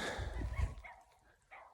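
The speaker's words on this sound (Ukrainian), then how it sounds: "Собака тільки розпинається" A dog barks and yelps in short bursts outdoors, fairly close, with the barking fading to quieter sounds and a brief final yelp.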